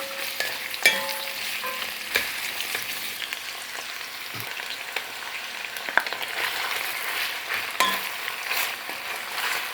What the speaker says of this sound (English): The oil will heat up. I will add onions, garlic